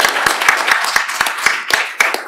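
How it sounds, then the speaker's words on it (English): A lecture audience gives a short round of applause, with a few distinct, loud hand claps standing out over a thinner background of clapping. "Well, we could give him a round of applause for that."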